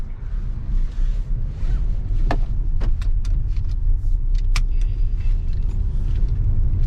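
A 2024 Hyundai Creta facelift with a diesel engine accelerates through its gears, heard from inside as a loud steady low rumble of engine and road noise with a few brief clicks and knocks.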